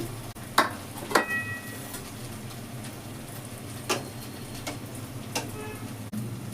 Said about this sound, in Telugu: తక్కువ తక్కువ వేసి ఫ్రై చేస్తున్నా ఆయిల్ కొంచెం తక్కువ వేసాను